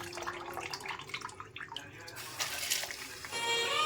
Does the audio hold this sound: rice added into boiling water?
yes